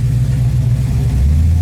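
A Ford GTHO Phase 3 tribute car's engine rumbles loud and close, a deep steady idle swelling into a heavier, throatier note near the end, with no talking.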